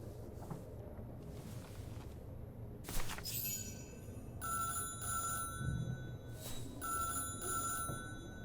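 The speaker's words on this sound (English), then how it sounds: "That's a fancy old phone." An old telephone bell in Syberia: The World Before rings in several bright, rattling bursts with short pauses between them, clear over a quiet, hissy background and alone without voices.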